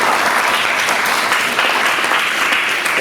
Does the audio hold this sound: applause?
yes